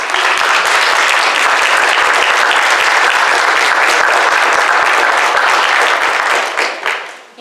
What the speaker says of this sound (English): Let us welcome our newest officers with applause.